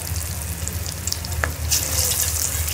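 Moong dal vadiyan frying in hot ghee in a kadai, a steady close sizzle that grows brighter and fuller partway through, with a faint stir and no voices.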